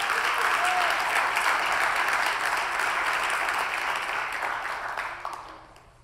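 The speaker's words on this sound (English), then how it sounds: "Now let's clap our hands loudly to God." A church congregation claps loudly together, a dense, sustained wall of applause that carries for several seconds and then fades out near the end.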